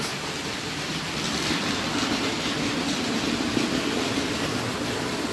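A very light model railway wagon runs around the track with a steady close rolling rumble and faint rail clatter, continuous and without talk.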